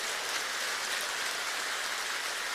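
An audience applauding inside a church, a steady, dense patter of many hands clapping at an even level throughout, with no voices.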